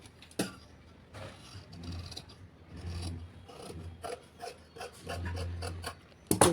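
Scissors cut through blouse fabric for a size 43 blouse, giving intermittent rasping snips and sliding rubs over a low background hum, with a sharp knock near the start and another at the end.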